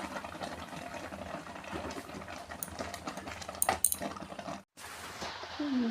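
Sandesh mixture of chhena is stirred nonstop in a pan over low heat, a steady soft scraping and rubbing with a few metallic clinks of the spatula, close and quiet, with a brief pause near the end.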